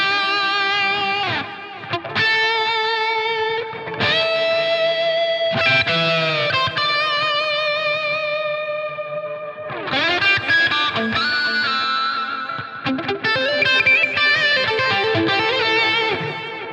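Electric guitar played through a Helix Cosmos Echo delay effect, with sustained distorted chords and notes trailing into layered echoes that fill the gaps between phrases.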